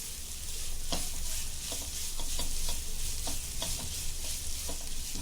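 Grated coconut dry-roasting in a pan for a Konkani chicken saroley, with a steady close sizzle broken by repeated scraping spoon strokes at an uneven rhythm.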